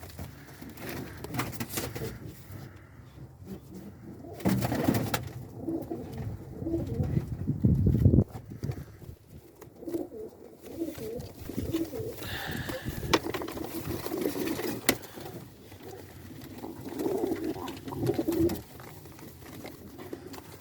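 Pigeons coo softly and repeatedly over a noisy outdoor background, with occasional wing flutters and scattered bird calls.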